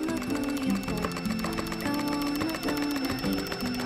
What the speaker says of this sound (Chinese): 机器呢，我们需要旋转90度，一边走线一边匀速的移动枪